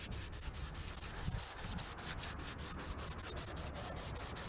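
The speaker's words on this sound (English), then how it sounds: "And then use my little sanding block here." A sanding block scrubs a plastic car indicator lens in fast, regular back-and-forth strokes, a steady hissing rasp close to the microphone with no talk.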